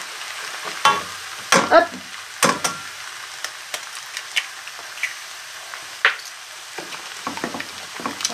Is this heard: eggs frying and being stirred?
yes